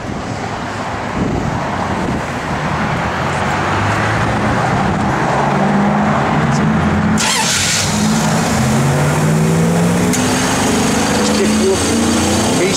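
A 1974 Plymouth Duster with a 318 V8 fires up and settles into a steady, loud idle, its low engine rumble close by beneath some wind noise and faint background talk.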